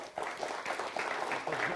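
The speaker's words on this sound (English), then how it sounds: "A round of applause." Audience applause at a magic lecture at The Magic Circle in London, a steady patter of many hands clapping at moderate loudness for under two seconds with no talk over it.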